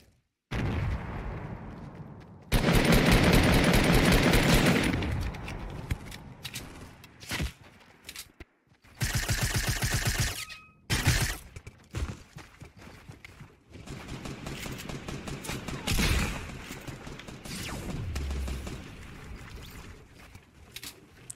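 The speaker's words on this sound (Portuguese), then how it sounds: "Nossa, a sniper tá cantando." Gunfire and sniper shots from a first-person shooter, bursts of rapid shots and loud single cracks separated by quieter stretches of movement and footsteps.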